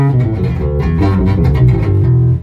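A passive Fender Squier bass played on its front pickup, with a low, steady run of plucked notes sounding loud and alone.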